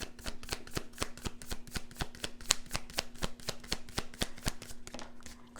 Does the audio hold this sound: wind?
no